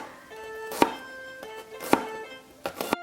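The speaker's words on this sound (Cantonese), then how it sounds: "啲蒜頭呢就切成蒜片啦" Garlic cloves are sliced thin with a kitchen knife on a board, three or four crisp, close knocks spaced about a second apart, with faint tonal background hum between.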